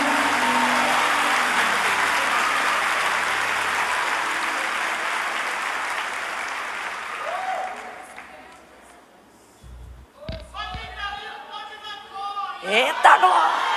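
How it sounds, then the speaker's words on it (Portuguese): A church congregation applauding during a Sunday service, a broad sustained clapping that gradually fades, followed by a voice and scattered cheers near the end. "Se um aplaudir, tu aplaude, que é para não deixar ele no vácuo."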